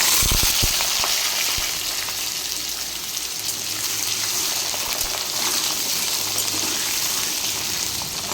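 Potatoes sizzle in hot oil seasoned with dried red chili and nigella seeds, a steady loud crackling hiss with occasional sharper pops and spatters and no talking.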